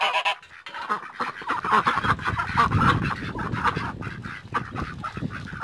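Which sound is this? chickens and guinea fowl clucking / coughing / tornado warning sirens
chickens and guinea fowl clucking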